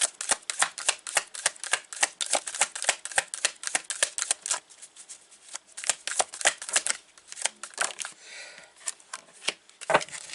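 Tarot cards being shuffled by hand during a reading, a fast run of crisp riffling slaps and clicks close up, pausing briefly before resuming, with no voices.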